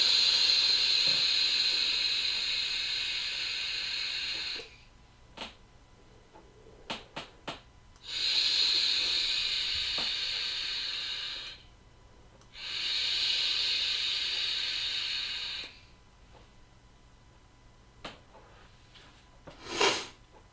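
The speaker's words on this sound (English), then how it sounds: "let's take it for a vape" Vaping on a Horizon Tech Arctic sub-ohm tank at 40 watts and 0.55 ohms: three long, airy hissing draws of about four seconds each, separated by quiet pauses with a few faint clicks and a short exhale near the end.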